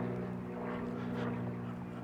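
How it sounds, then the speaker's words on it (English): A light propeller plane flies low over a suburban street of 1970s houses in Perth, Western Australia, giving a steady, loud droning buzz with a tonal engine hum that holds throughout. "Got a light plane buzzing overhead over there."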